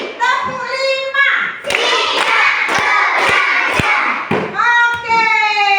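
A grade-five class of children claps out a five-beat clapping game: crisp, loud claps in a steady run under excited group voices, framed by a woman's chanting.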